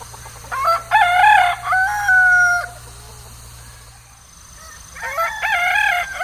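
Yeonsan Ogye, an all-black chicken breed, at a farm in Yeonsan, Nonsan, South Chungcheong: a rooster crows loudly nearby twice, a long drawn-out call then another a few seconds later, over a low steady hum.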